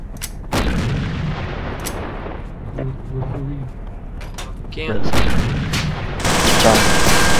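Heavy video game gunfire and artillery booms fill a battle scene, with repeated blasts and dense shooting, loud and close, while players talk over the noise.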